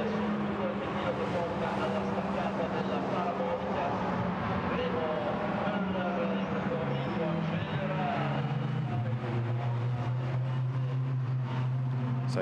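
GT race cars in a Blancpain GT Sports Club race at Monza drone past as a pack, with engine notes rising and falling in pitch, heard steadily under a commentator talking.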